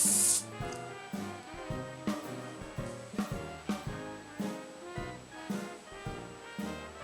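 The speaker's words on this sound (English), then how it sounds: "Then I set it with hairspray and I use Shockwaves Ultra Strong Power Hold" Bursts of Shockwaves Ultra Strong Power Hold hairspray misted onto styled hair, a run of soft repeated hissing puffs, close and fairly quiet, with no talking.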